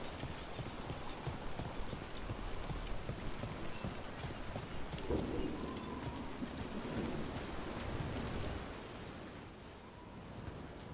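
Steady rain in the video game Dragon Age: The Veilguard hisses over a wet, noisy backdrop, with rhythmic hoof clip-clops and a low distant rumble like thunder.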